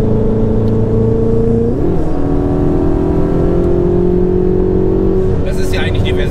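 A Ferrari 488 GTB with a 670 PS engine accelerating on the road, heard from inside the cabin as a loud, steady drone that climbs in pitch with a quick gear change partway through, while someone talks over it.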